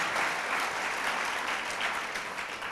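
An audience at a spiritual discourse on the Hanuman Chalisa claps steadily throughout, a dense, even wash of many hands with no pauses and no voices.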